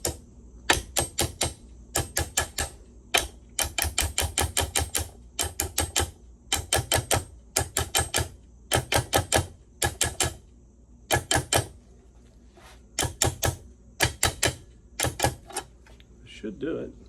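A hammer taps a metal top down onto a Yamaha outboard lower unit in quick bursts of sharp, ringing metallic knocks, grouped in clusters of three to six with short pauses between, close and crisp.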